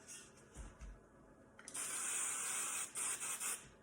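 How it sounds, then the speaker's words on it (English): A steady hiss of extra-hold hair spray from an aerosol can starts partway through and runs in a few long bursts with brief pauses, close and fairly loud. "When you're ready to set it, I go with an extra hold spray."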